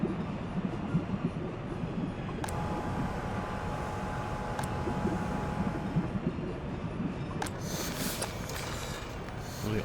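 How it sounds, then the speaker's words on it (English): Train rumbling along the rails in the city-building game Workers & Resources: Soviet Republic, a steady, dense low roar held for about ten seconds with a few sharp clicks. "I know that when this train is running,"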